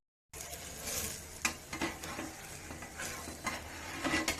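A jowar paratha fries in a mix of ghee and oil, giving a quiet, steady sizzle with scattered scrapes and light clinks of a utensil against the pan, heard close up without voices.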